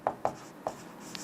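Three sharp marker or chalk taps and strokes on a board during a Class 11 maths lesson on mathematical induction, quiet and close, with no talking.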